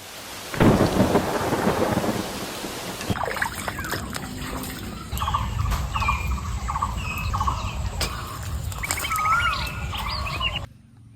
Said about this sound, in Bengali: দেখো বৃষ্টি পড়া শুরু হয়ে গেছে